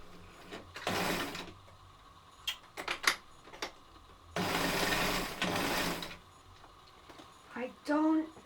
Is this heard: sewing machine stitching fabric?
yes